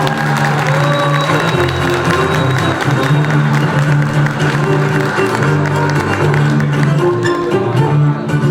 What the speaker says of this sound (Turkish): Ama kuvvetli alkışlarla.